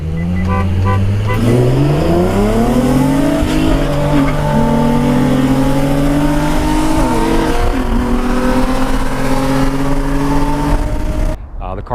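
An Infiniti G35 / Nissan 350z with a random misfire accelerates hard from a rolling start. The engine note is loud and close, climbing steadily through the revs with brief dips between gears, until the sound cuts off abruptly at the end.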